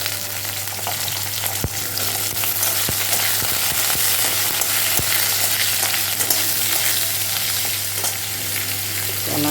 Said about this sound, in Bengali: আলুটা একটু ভাজা ভাজা হলে কলা বেগুন দেবো।